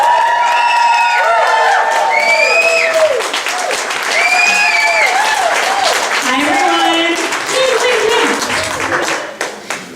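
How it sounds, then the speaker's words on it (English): A crowd applauds and cheers loudly for a city council candidate for Providence's 12th ward, dense clapping mixed with whoops and shouts that fade slightly near the end, with voices mixed in. "Please join me in a warm round of applause for the next city councilwoman for Providence's 12th"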